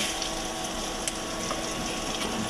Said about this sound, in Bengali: এই তো পেঁয়াজের সাথে হচ্ছে চিংড়ি মাছটা ভেজে নিচ্ছে।